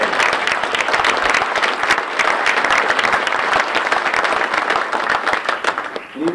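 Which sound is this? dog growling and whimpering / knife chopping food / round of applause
round of applause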